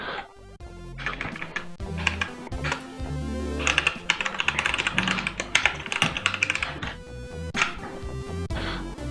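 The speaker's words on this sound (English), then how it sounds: "my fingers are jumping all over the keyboard today" Fast, uneven typing on a computer keyboard, close and crisp, with dense bursts of clicks and brief pauses throughout.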